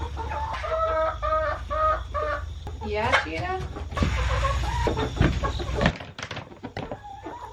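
Hens cluck in rapid, repeated bursts close by while a rooster's calls rise among them; a person speaks briefly over the busy flock.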